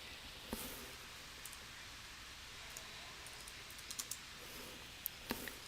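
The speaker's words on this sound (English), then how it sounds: "we're going to type in Thingiverse" Computer keyboard typing, a few sparse, faint key clicks scattered over a soft hiss, with a small cluster of taps near the end.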